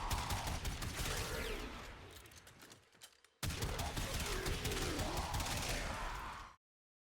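Rapid, continuous shotgun fire with a dual fire rate build in the video game Warframe, a dense rattling volley that drops briefly during a reload, then resumes at full pace before cutting off abruptly.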